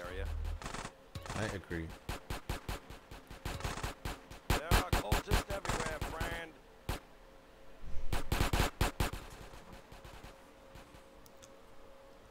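AK rifle fire in Grand Theft Auto San Andreas Definitive Edition comes in loud rapid bursts of sharp shots with short pauses between them, and a brief spoken remark cuts in partway through.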